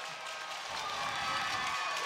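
Crowd at a Schmalz Cup playoff hockey game between Wellesley and Clarington cheers and applauds steadily after a Wellesley goal, a dense continuous roar of clapping and shouting filling the arena.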